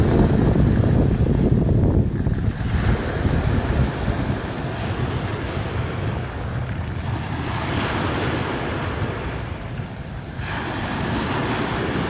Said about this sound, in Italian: Facciamo ascoltare ancora un po' il suono del mare